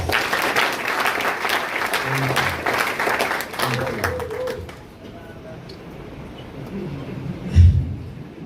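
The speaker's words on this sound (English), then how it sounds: "So a round of applause for myself." Crowd applause at a skills-training event in Sunyani, Ghana, steady and moderately loud for several seconds, then thinning out into a quieter room with a low thump near the end.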